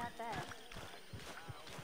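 Horse hooves clip-clopping in Red Dead Redemption, a steady run of near thuds in the St. Denis city setting, heard under continuous talk.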